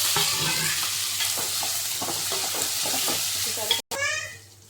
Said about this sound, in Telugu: ఇందులోనే ఆనియన్స్, పచ్చిమిర్చి కూడా వేసుకోవాలి. వేసి బాగా కలుపుకోవాలి. కొంచెం ఫ్రై కానిద్దాం.